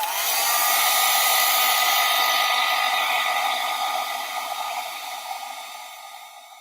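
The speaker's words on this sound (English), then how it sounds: "so now I'm just going to heat set that." A heat tool blows loudly and continuously as it sets embossing powder, a steady broadband whoosh that gradually fades near the end, with no talking.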